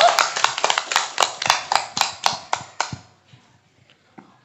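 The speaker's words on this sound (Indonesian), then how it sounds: "Tepuk tangan untuk Desa Sukamenak." A talk-show audience in Sumedang claps for Desa Sukamenak in a quick run of sharp, evenly timed claps, about a dozen, fading out into near silence.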